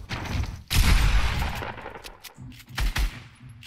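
Gunfire in the Fortnite battle royale video game, a loud burst of rapid automatic shots followed by scattered, quieter single shots and a couple of sharp cracks near the end.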